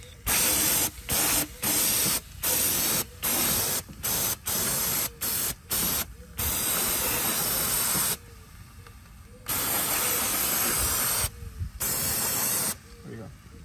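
Repeated bursts of brake cleaner spray on a hot Honda Odyssey engine's VTEC solenoid area hiss in quick succession, then a few longer sustained blasts, loud and close.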